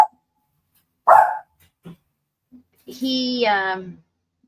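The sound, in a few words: dog barking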